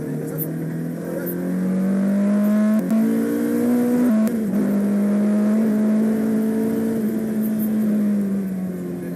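A race car on the Grand Sambuc circuit, at full throttle, holds a loud steady engine drone near and constant across the whole stretch, pitch rising and falling slightly, with brief clicks and a voice talking over it.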